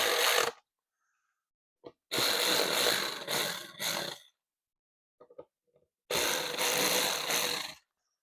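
Hand work fitting a Wunderlich Marathon Pro windscreen to a BMW R1300GSA, with several separate bursts of close mechanical rattling and ratcheting between stretches of silence.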